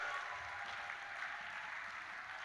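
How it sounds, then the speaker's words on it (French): An audience at a religious seminar applauds in a steady, dense wash of clapping that holds at an even level throughout, with no voices standing out above it. "Une offrande d'acclamation pour notre Dieu."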